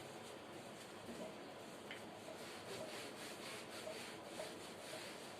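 An eraser rubs part of a classroom board during a maths lesson on circle areas. The rhythmic wiping strokes are faint and quiet over a low background hiss.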